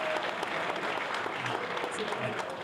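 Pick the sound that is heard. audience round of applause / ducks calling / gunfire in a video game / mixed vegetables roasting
audience round of applause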